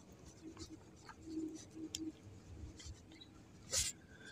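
A pen writes a formal letter on paper, quiet scratchy strokes in short bursts, close but faint, with a brief louder scrape near the end.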